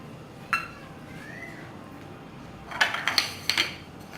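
Salad ingredients for kachomar are tossed in a bowl, with a sharp clink at the start, then quiet, and then a close run of clinks and scrapes near the end, and no voices.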